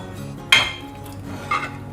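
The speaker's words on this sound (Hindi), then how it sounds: "अब हम इसमें समा का चावल डाल देंगे।" Samak rice tipped into boiled milk in a pressure cooker pot gives a sharp metallic clatter, then a second softer clink a second later, close by with no talk.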